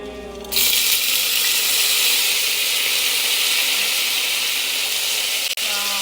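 Caterpillars frying in a pan, a loud steady hiss and sizzle that bursts in after a short quiet start and holds evenly to the end, close up and with no talking.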